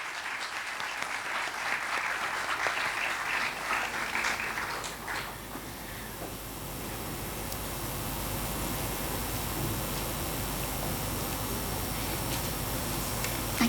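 A conference audience at an HR panel event applauds to welcome a panelist: dense, steady clapping fills the first five seconds, then fades into a quieter, hissing room tone.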